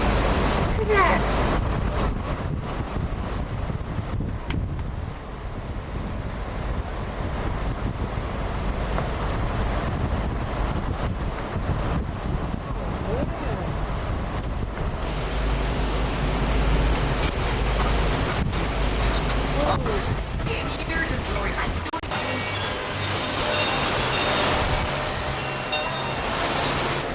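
Ocean waves and gusting wind during Hurricane Ike at Key West roar as a steady, loud broadband wash, with surf surging and a harsh burst of wind buffeting near the end.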